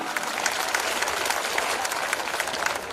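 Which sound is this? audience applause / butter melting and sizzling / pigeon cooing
audience applause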